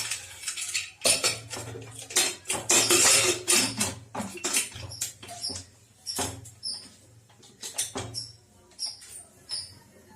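Metal clatter of a pressure-cooker lid being handled and set onto a cooker of Bengali mutton kosha, sharp clinks and scrapes in irregular bursts, close and fairly loud with a low hum beneath.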